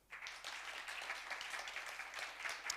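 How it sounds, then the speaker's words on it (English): An audience at a fireside-chat event applauds steadily and dense from start to finish, a moderately quiet, continuous wash of many hands clapping with no voice on top. "another warm round of applause for Phil."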